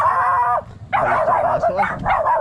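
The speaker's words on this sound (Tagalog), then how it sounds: "Aso eh." A dog barks close by in the evening at a street vendor's round, with a sustained howling bark followed by several shorter yelping barks.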